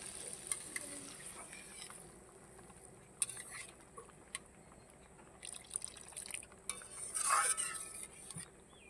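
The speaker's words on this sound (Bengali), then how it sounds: "এখন আমি পরিমাণ মতো জল দিয়ে দেব।" Water is poured into a spiced khoyra fish curry with black cumin paste in a pan: quiet drips and clinks of a utensil build to a short, louder splashing pour near the end.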